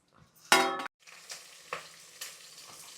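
Whole spices and nutmeg powder hit hot oil with a sudden loud burst of sizzle, then settle into a steady crackling fry with a few soft stirring scrapes, close and without talk.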